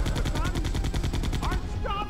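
Rapid gunfire in Resident Evil 2, the GameCube HD remaster: a steady, evenly spaced burst of loud shots runs through the whole moment, with brief game tones chirping in toward the end.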